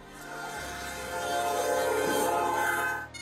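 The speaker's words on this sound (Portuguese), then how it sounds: "É possível ouvir a sirene do trem ao fundo." An approaching train sounds its horn in the background during a rescue at a crossing, a sustained tonal blare building steadily in loudness over a low rumble, fairly distant and without speech.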